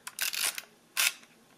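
A Canon 110E film camera shutter fires up close, a dry mechanical whir and clack followed a half second later by a second short snap, quiet and isolated.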